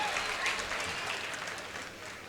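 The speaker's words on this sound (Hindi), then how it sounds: "जोरदार तालियां इनके लिए बजाएं।" Audience at an All India Mushaira in Nanded breaks into steady, dense applause, a sustained crowd of clapping that stays fairly loud and slowly tapers off.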